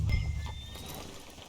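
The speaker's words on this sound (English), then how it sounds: "Hitch your horse up here." In the Red Dead Redemption 2 video game, a horse shifts with soft hoof clops and a faint whinny, brief and fairly quiet against low rumbling ambience.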